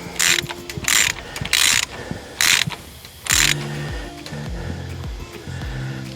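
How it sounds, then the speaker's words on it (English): A torque wrench tightening a camshaft bolt on a Troopy engine: sharp metallic ratcheting bursts in five quick pulls, close and loud, followed by repeated squealing metal-on-metal creaks as the bolt is worked. "as we do this up, we need to hold the cam in place when we torque it"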